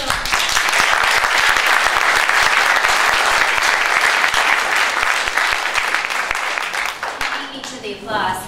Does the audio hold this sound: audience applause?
yes